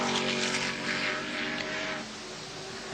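Peter Brock's '05' race car at Bathurst in 1984 powers through the cutting toward the top of the mountain. A loud, steady engine roar holds throughout and eases slightly in the final second.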